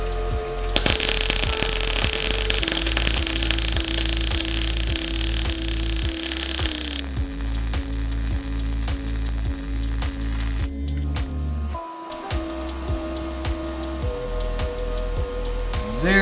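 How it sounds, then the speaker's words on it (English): A gas welder joins quarter-inch-thick square iron, producing a loud, steady crackling sizzle with a fast, rhythmic buzzing pulse underneath. The sound runs almost without break, dipping briefly before resuming. "I'm gonna try to weld on some 1/4 inch thick square iron"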